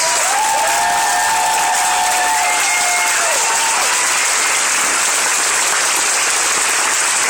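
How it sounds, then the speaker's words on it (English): A convention audience breaks into loud, sustained applause with scattered cheers and whistles, a dense wall of clapping that stays strong throughout, with no talk over it. "so please give them one more round of applause"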